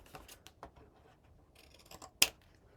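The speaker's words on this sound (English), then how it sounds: "take the top blade of the scissors and put it right against the chipboard and cut at a bevel this excess piece" Scissors trimming a beveled edge off chipboard, several faint snips and crisp cuts scattered over a few seconds with one sharper click near the end, close and quiet.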